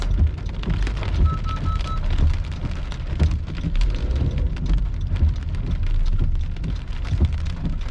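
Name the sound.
heavy rain or hail during a storm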